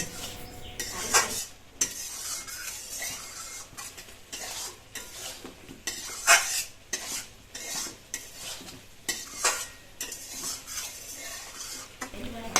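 Soybean and whole-garlic curry stirred in a pan, with rhythmic metal scraping and clinking of a spoon against the pan over a light sizzle, close and fairly quiet.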